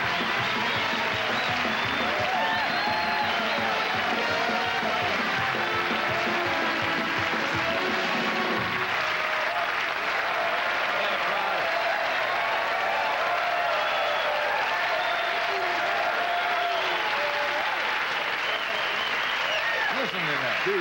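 An audience applauds comedian Rodney Dangerfield, a loud, dense wash of clapping that holds steady and thins slightly partway through, with no voices heard over it.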